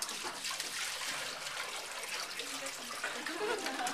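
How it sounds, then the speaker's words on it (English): Water trickling and splashing steadily through a three-level concrete fountain, a continuous broadband wash with faint voices in the background. "So this is just how the fountain works."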